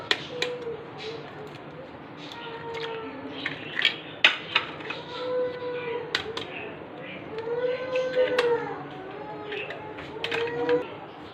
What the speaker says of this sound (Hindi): 3 अंडों को तोड़ के मिक्स करना है।